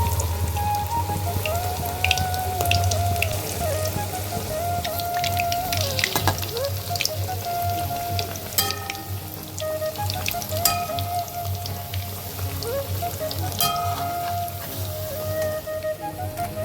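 Cabbage pakoras fry in hot oil, giving a steady, dense crackle and sizzle like heavy rain that holds evenly for the whole stretch, with no talking.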